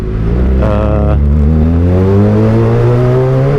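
A Kawasaki ZX25R motorcycle engine revs through an aftermarket Velan ZX1 exhaust, its pitch climbing steadily and loud and close for the whole stretch, with no talk over it.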